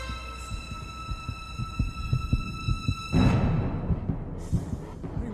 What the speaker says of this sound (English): the heartbeat in time with the music